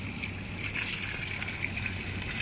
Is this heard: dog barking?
no